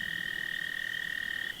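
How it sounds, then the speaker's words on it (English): Frogs croak in a steady, continuous high trill at a pond at night, moderately close and alone, with no other sounds. "The little froggies are singing."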